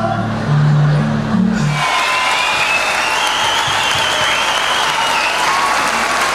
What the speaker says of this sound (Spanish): Fuerte el aplauso para Ernesto Cancino